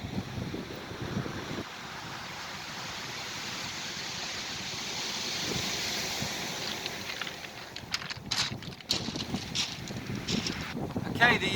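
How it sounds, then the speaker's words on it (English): Wind buffets the microphone on an autumn beach during beach fishing, a steady broad rush with surf underneath, rising and falling, with some handling noise toward the end. "Okay, the wind's picked up a bit."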